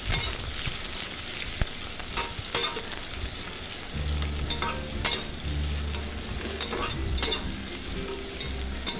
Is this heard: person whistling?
no